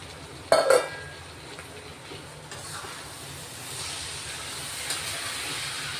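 Sprouted moth beans (matki) sautéing in hot masala in a pan give a steady, even sizzling hiss with a brief louder crackle near the start.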